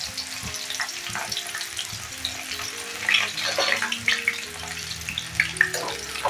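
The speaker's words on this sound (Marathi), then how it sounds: "हे गरे आपण त्याच्यामध्ये तळणार आहोत. तेल तापलंय आणि हे थोडे थोडे घालायचे" Pieces of raw jackfruit sizzle and bubble steadily in hot coconut oil, with scattered crackles and pops over a constant frying hiss, heard up close while a person briefly exclaims.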